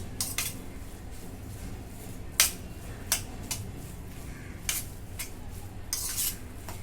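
A spoon stirs yogurt mixed with garam masala, red chilli powder and turmeric in a bowl, giving sparse, sharp metallic clinks at irregular intervals over a quiet background.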